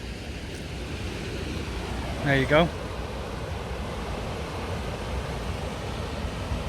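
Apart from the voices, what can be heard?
water running at docks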